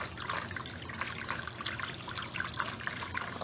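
A 320 gallon-per-hour pump in a nano reef tank keeps water flowing in a steady, close trickle and burble, with continuous gurgling and splashing.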